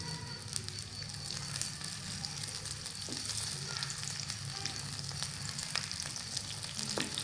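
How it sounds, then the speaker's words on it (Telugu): Dry fish fries in a small kadai, sending up a continuous crackling sizzle with scattered sharp pops and a few soft clicks as the pieces are turned, with no voices. "మరో పక్క తిప్పించి వేయించుకోవాలా."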